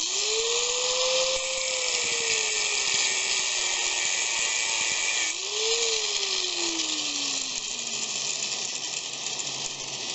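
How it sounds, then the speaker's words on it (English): Handheld grinder working on metal, a steady high-pitched whine with two long sweeping pitch bends as the wheel loads and frees up, constant and fairly close with no speech. "I'm sitting here with my grinder and grinding away at these"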